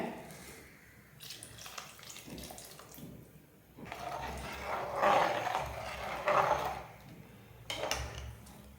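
Tamarind water splashes and gurgles as it pours into a boiling pot for bisi bele bath, coming in a few bursts of varying strength over a quiet background.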